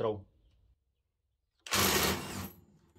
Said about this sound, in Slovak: Teraz vyskúšam obidve skrutky povoliť.